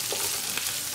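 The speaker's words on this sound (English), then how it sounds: "Stir it up." A brief, close burst of steady sizzling comes from cabbage frying in olive oil with onion and garlic as it is stirred in the pan.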